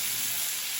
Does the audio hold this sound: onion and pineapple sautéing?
yes